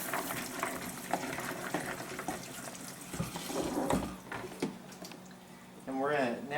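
Kitchen tap running steadily into a sink while green beans are rinsed, a continuous close splashing wash with small bumps and clatter, under intermittent talk.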